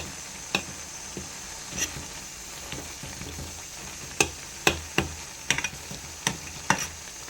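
Garlic cooks in oil in a home kitchen pan, a soft steady sizzle broken by sharp irregular crackles and pops, with occasional stirring clicks; no one speaks.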